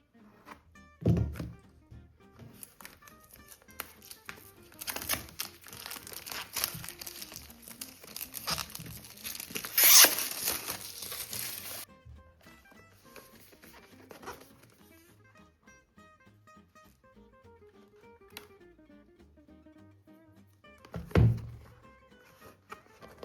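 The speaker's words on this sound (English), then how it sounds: "So now let's go ahead and unbox this." A DJI Osmo Action 5 Pro Adventure Combo camera box is unboxed close up: dull thunks as the box is handled, bursts of crinkling and tearing packaging, then quieter rustling with another thunk near the end.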